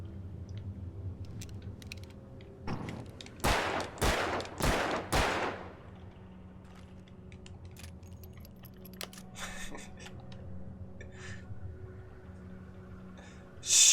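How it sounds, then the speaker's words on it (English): Gunshots in the video game Alan Wake, four loud sharp shots in quick succession fired nearby, followed by quieter clicks, clatter and mechanical handling noises, with no voices. "Shoot the bullets in the air."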